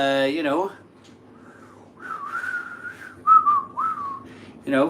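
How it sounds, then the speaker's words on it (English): Someone whistles a short, wandering tune close by in a kitchen, with brief bits of voice at the start and end. "standing in the kitchen whistling."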